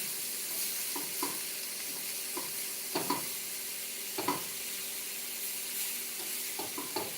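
Leaves sautéing in a pan give a steady sizzle and hiss, with scattered soft knocks and scrapes of stirring every second or so, close and moderately quiet, no talking.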